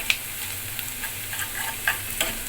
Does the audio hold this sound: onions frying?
yes